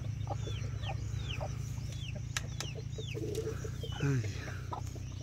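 A brooding Rhode Island Red hen clucks and murmurs close by, with chirping chicks and other birds around it over a steady low hum. One louder cluck stands out near the end.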